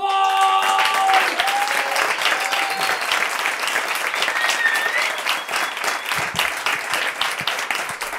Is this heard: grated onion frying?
no